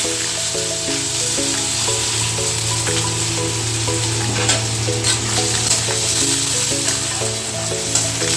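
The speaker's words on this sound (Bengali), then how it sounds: "পেঁয়াজটা আমরা একটু ভালো করে ভেজে নেব।" Chopped onion fries in mustard oil for a Bengali cabbage fry, with a loud, steady, close sizzle and occasional stirring scrapes running the whole time beneath soft background music.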